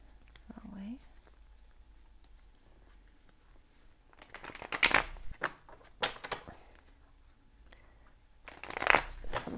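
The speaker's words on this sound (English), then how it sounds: "I gotta turn it over and shuffle it the other way" Tarot cards being shuffled by hand, two bursts of riffling and crisp card flutter near the mic, the second toward the end, with quiet handling sounds and soft murmuring between.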